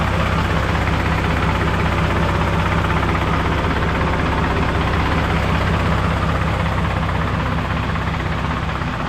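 Mitsubishi Fuso six-wheel dump truck engine idling, a loud steady low rumble heard up close with no talk.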